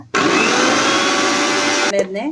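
A kitchen mixer grinds green chillies, garlic and cumin into a paste with a loud, close, sustained whirring roar that cuts off abruptly near the end, after which a brief voice is heard.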